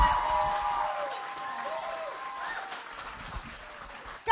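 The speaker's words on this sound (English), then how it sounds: "Start clapping your hands together right motherfucking now." Live podcast audience clapping and cheering for a guest, a fairly even wash of applause with a few voices and whoops mixed in, ending on a sudden loud burst.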